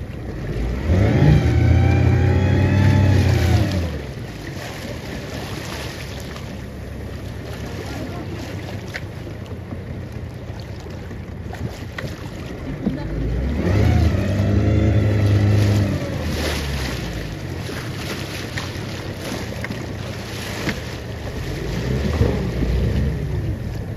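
A motorboat engine roars loudly in two long surges a few seconds apart as the boat circles to make waves near rocks, with water splashing and a low rumble continuing between passes.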